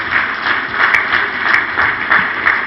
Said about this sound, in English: Please let's give this hard-working staff and management under the leadership of Mike Opere a round of applause.